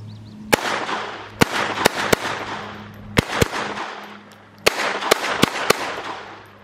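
Sharp .22 caliber pistol shots at a shooting range, a dozen loud cracks fired in quick clusters with short pauses between groups, echoing briefly after each shot.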